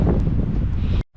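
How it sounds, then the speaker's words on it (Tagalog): Cold wind blowing outdoors buffets the microphone in a loud, continuous, rumbling roar that cuts off abruptly near the end. "Mahangin."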